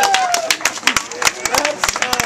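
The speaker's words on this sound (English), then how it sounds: "Give these gentlemen a round of applause" Applause and scattered clapping from an audience at a live comedy or improv show in a brewery bar, a dense burst of claps carrying on steadily throughout, with a sliding tone and crowd noise mixed in.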